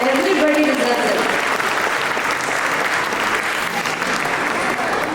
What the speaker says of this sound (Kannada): ಮೊದಲನೇ ಎಲ್ಲರಿಗೂ ಒಂದು ದೊಡ್ಡ ಚಪ್ಪಾಳೆ ಬರಲಿ, ಎಲ್ಲ ಮಕ್ಕಳಿಗೂ